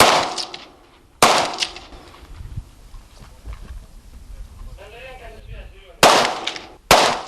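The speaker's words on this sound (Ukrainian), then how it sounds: "Учасники стріляли з положення стоячи та лежачи, присядки та у русі, по статичних та рухомих мішенях, дерев'яних та залізних щитах" Several sharp, loud gunshot cracks ring out with metallic clangs as shooters hit iron targets, spaced apart, with faint voices and rustling in the quieter stretches between.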